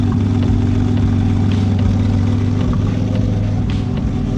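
A car engine idles steadily close by while its idle speed is turned down, giving a constant low hum with a smooth, unbroken drone and no voices.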